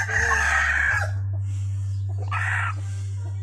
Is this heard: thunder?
no